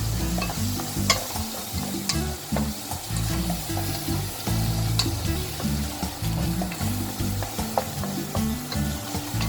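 Goat curry (kochi pathar jhol) is stirred as it fries in a pan. A steady, close sizzle runs throughout, broken by scraping stir strokes and occasional sharp spatters, with no voices.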